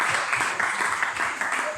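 A church congregation applauds together in steady, sustained clapping that fills the room from start to finish, with voices mixed into the crowd noise.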